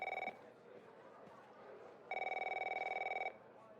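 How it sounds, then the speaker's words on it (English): A telephone in a video game rings with tritone tones in two electronic bursts, a short one and then a longer one, with quiet background between them and no speech. "This is the game with the tritone phone calls."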